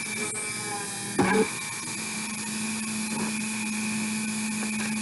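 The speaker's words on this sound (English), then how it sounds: "I'm just going to take my drill, make sure I have that firmly on my little drilling block, and I'm just going to go down and just pop through." A small drill bores through a bead held on a drilling block. A steady, close whine runs throughout, with a brief louder burst as the bit bites in.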